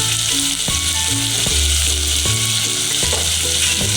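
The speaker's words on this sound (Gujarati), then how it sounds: "હવે આને આપણે 5 મિનિટ છે ને તેલમાં સડવા દેવાનું છે, એટલે સરસ કંટોલા અને ડુંગળી આપણી ચડી જાય" Kantola (spiny gourd) and onion fry in oil in a pan with a steady, bright sizzle, while a few low clunks and scrapes of stirring land near the start and around the midpoint.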